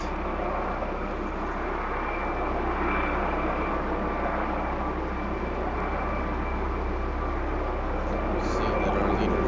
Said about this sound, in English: Up in our FSB helicopter, we're looking down at